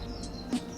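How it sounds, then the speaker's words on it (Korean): Outside a gorge-view ryokan room at Okuhita Onsen in Japan, small birds or insects chirp in a few faint, high, brief calls over a quiet room background. "새소리가 들리시는지 모르겠는데"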